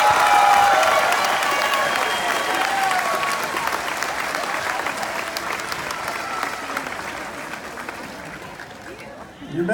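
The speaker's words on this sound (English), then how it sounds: "Stand and give this group a big round of applause out there." Big round of applause from a standing graduation crowd, loud dense clapping with cheering and chatter that slowly thins over ten seconds.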